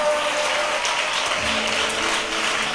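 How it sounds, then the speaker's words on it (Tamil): A congregation at a Tamil Christian church service claps hands loudly and continuously, a dense wash of applause filling the hall. "ஜோரா ஒரு கை தட்டி அப்பாவுக்கு மகிமை."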